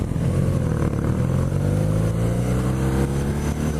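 BMW R nineT Pure 2017 motorcycle engine under way, a loud, steady boxer-twin drone with rising pitch as it accelerates, heard up close while riding.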